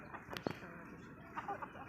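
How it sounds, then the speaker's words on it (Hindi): Chickens of a Mianwali breed feeding on bread, with soft, faint clucks and a sharp peck or flap close by, set against low outdoor background noise. "ये अभी रोटी खा रहे हैं, मुर्गियाँ"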